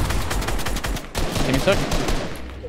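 Gunshots in Fortnite: sharp, close shots fired in quick succession, some in rapid bursts, loud over game noise while a player talks briefly.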